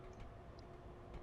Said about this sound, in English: thousands of train crew or people on stations have heard the sort of tick, tick, tick, tick